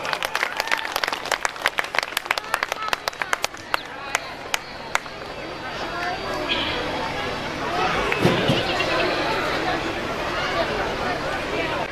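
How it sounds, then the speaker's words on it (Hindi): An audience at a school annual function claps for an award winner, starting with sharp, scattered claps that blend into a fuller round of applause, then fade into crowd chatter with voices talking. "पूजा के लिए एक ताली तो बनता है भाई"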